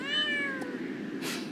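Cat meowing in the Star Stable horse-riding video game: a single clear, drawn-out meow with a falling pitch, followed by a faint short chirp and a soft rustle, fairly quiet and heard with no talking.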